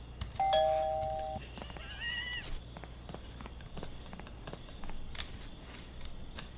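Doorbell in the video game Thief Simulator, a single two-tone chime ringing out clearly, followed by quiet in-game ambience, a faint meow-like tone and soft footsteps.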